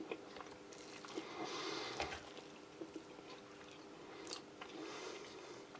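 Quiet, close chewing of buckwheat porridge with beef from a Kazakhstan field ration, soft wet crunching and squishing bites in uneven rhythm with no talking.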